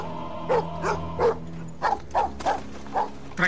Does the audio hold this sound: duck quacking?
no